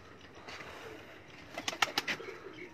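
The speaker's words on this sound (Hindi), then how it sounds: "4 कबूतर इसमें फ़खर भाई के घर के पट्ठे पट्ठियाँ हैं और 7 कबूतर मेरे घर के पट्ठे पट्ठियाँ हैं।" Pigeons from a rooftop loft flock, several birds coos and calls rising near the end in a short cluster of soft notes over faint background hiss.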